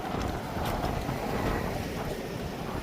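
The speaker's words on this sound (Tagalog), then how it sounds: "medyo mahangin ngayong araw na to." Gusty wind in a parking area in Canada buffets a microphone with a constant rushing roar, the noise swelling and easing slightly over a few seconds.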